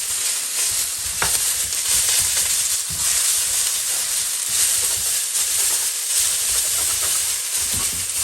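Soy sauce noodles with bean sprouts frying in a hot wok, giving a steady, loud broadband sizzle and hiss throughout with occasional stir clatters and bursts.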